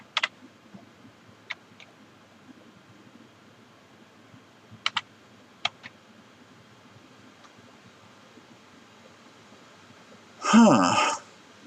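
Typing on a computer keyboard, a few sparse, faint key clicks spread across a quiet room, followed by a brief louder rustle near the end.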